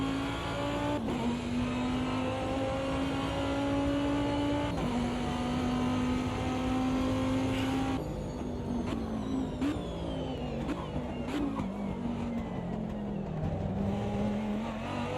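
Race car engine held at high throttle in a racing sim game, a steady loud whine with pitch dips and shifts around gear changes, continuous throughout.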